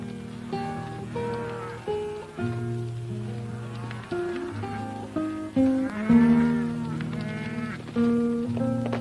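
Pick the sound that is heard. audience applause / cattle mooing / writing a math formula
cattle mooing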